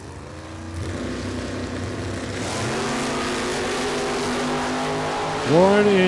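Two drag racing cars, a Mustang and a Duster, run down the strip in a Super Pro race, their engines roaring loudly and steadily, with a commentator talking over them and a higher revving surge near the end.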